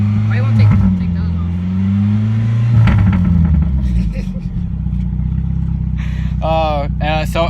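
A 1996 Chevy Cavalier engine with the muffler removed revs loudly and close, a raw, rising and falling exhaust roar, while people talk over it.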